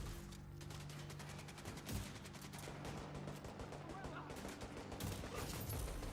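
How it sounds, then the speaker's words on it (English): Rapid pistol fire in The Division 2, a dense run of quick shots packed closely together, loud and steady for the whole stretch with no pause. "that pistol shooting kind of fast, boy"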